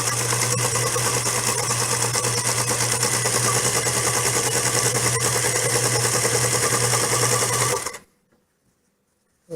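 A sewing machine stitches fabric for a toy stuffed with grains, running loud and steady for about eight seconds before stopping abruptly into silence.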